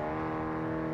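A vehicle engine in Warzone Mobile holds a steady, droning hum with a rich buzzing tone, continuous and fairly close over the short moment.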